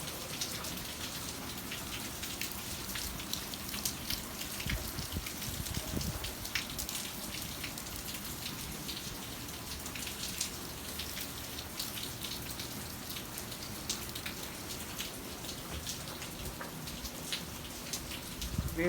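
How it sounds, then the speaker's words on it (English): Steady, solid rain pours down onto an outdoor patio with covered furniture, a dense continuous patter of drops spattering on hard surfaces, even in loudness throughout and with no voices. "It's a nice solid rain."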